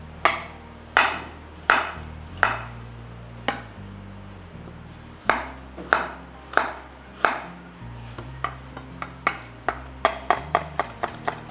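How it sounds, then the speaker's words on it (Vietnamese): A knife slicing half a carrot into fine julienne strips on a cutting board, a close series of crisp, sharp chops in an uneven rhythm that speeds into quicker strokes toward the end, with no talking. "Cà rốt chúng ta sẽ lấy một nửa củ này, chúng ta sẽ thái chỉ ra."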